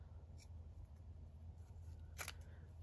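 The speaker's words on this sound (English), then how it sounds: "oh, my scissors are really blunt" Blunt fabric scissors cut through pink lace in two short, crisp snips, one faint near the start and a louder one near the end, over a steady low hum with no talking.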